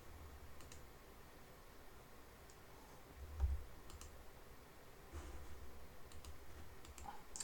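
Faint computer mouse clicks while lessons are removed from modules in Electude course software, a few sparse, quiet clicks over a low room hum with no speech.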